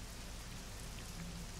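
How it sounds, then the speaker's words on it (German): Steady rain falling outdoors, a soft even patter of drops on surfaces, faint and continuous with no other sounds. "Kommt rein jetzt, es regnet."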